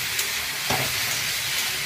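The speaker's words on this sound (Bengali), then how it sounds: "একটু ভাজা ভাজা করে নিয়ে তারপরে এটা শিলে বেটে নেবো" Drumstick flowers and pumpkin flowers with turmeric frying in a pan, a steady close sizzle with a brief stirring scrape, no voices.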